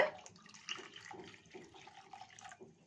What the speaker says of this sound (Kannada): ಒಂದು ಕಪ್ಪಷ್ಟು ನೀರನ್ನ ಹಾಕ್ಕೊಳ್ಳೋಣ